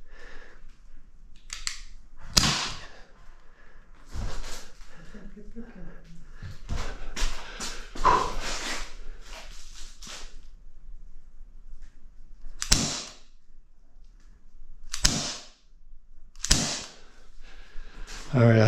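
A Glock 19 BB pistol fires five sharp, separate cracks at irregular intervals, spaced a few seconds apart, with quiet talk and handling noise in between.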